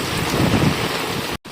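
Heavy super typhoon rain pours down in Macau during Typhoon Yagi under signal number 8, a dense loud roaring hiss with gusting wind, cutting out abruptly near the end.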